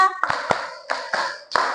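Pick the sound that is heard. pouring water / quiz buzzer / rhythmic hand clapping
rhythmic hand clapping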